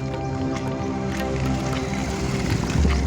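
Heavy rainwater from two days of nonstop rain rushes loudly beneath a bridge over the Panam river at Devgadh Baria, a steady close broadband roar with no voices.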